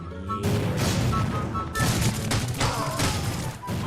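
Bursts of rapid video-game gunfire crack and boom loudly in a tactical shooter match, filling nearly the whole moment with dense repeated shots and brief pauses between volleys.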